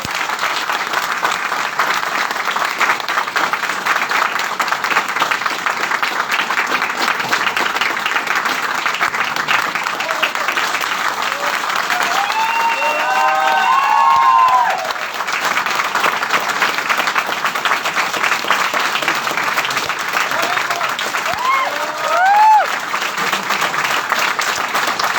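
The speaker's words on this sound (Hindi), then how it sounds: "तो क्या खुद के लिए एक बार जोरदार तालियां नहीं होनी?" Loud, sustained applause fills a meeting hall, a dense steady wash of many hands clapping from the audience, with a few faint voices and whoops rising through it.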